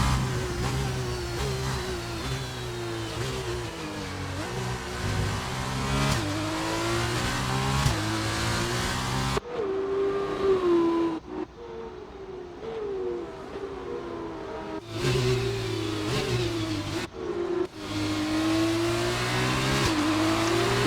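An F2 race car in F1 2019 howls along the Baku straight on wet tires, its engine rising through gears with repeated upshifts and steady high revs, loud and close.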